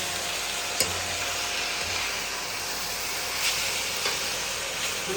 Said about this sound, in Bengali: শাকটা সুন্দরভাবে ভেজে নিয়েছি দেখুন